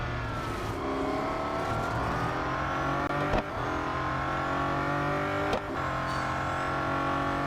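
Bugatti Centodieci race car in Real Racing 3 holds a loud, steady engine drone at high revs throughout, with two brief sharp clicks, likely gear shifts, around the middle.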